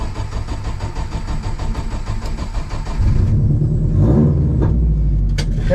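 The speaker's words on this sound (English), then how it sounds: "I gotta adjust the idle so it doesn't die on me. E85 is a bit finicky." A car engine running on E85 fuel idles with a steady mid-pitched rumble that grows heavier and louder partway through, with a brief sharp noise near the end. There is no talking.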